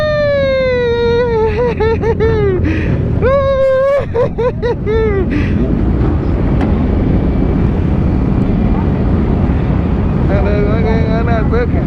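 Sport motorcycles such as Yamaha R1, BMW S1000, ZX10, R6, ZX6R and GSXR 1000 at a Philly bike meet rev hard with rising and falling engine whines, loud and close, over a continuous rumble and some talk.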